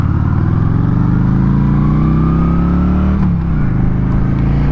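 A 2025 Honda Shadow Phantom 750 cruiser motorcycle accelerates hard and close, its engine note climbing steadily through a gear, dipping at a shift, then pulling again, loud and alone.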